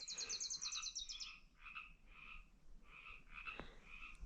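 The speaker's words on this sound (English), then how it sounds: "A lot of frogs around here." Frogs croak in a steady, repeating rhythm, opening with a quick rattling trill, then a run of evenly spaced calls in a quiet outdoor setting on an uphill trail on Catalina Island.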